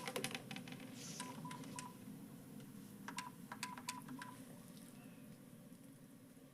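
Faint telephone dialing tones sound in a meeting room: a scattered series of short touch-tone beeps in irregular clusters over a steady low hum, with no talking.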